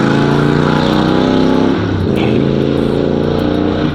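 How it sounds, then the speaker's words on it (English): A car engine roars loudly nearby up a street, a sustained heavy revving drone that dips briefly and then carries on strong. "He let it cruise, then once you get a little bit up the street, hit the gas really loud"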